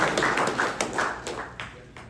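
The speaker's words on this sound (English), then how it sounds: "give him a round of applause" Scattered applause for a speaker at an Alamo Bowl practice gathering in San Antonio: a few hands clapping in loose, uneven bursts that soften over two seconds, with no talking.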